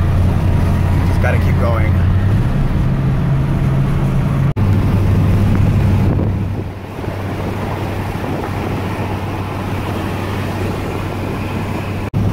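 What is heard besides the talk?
Ford F150 truck engine straining uphill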